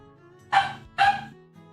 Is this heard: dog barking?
yes